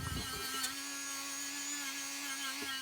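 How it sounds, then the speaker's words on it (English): Steady high-pitched whine of a Dremel rotary tool cleaning up a chrome rear bumper piece from a Mercedes R107, running continuously at close range with a faint scraping edge. "we're just going to get the Dremel tool on there, clean that up"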